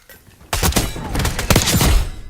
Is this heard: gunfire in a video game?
yes